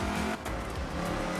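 Rally car in the video game Art of Rally, its engine droning and shifting pitch with brief tyre noise, steady and fairly close.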